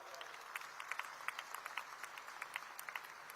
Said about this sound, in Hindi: बच्चियों के लिए एक बार जोर से ताली बजाओ जरा